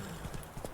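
Horse hooves in The Witcher 3, a brief flurry of soft clip-clop beats under a faint game ambience, lasting well under a second.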